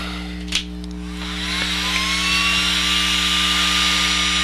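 A Black & Decker variable heat gun blowing steadily as it heats a fly-tying bead, a loud continuous whir with a rising whine, starting with a short click.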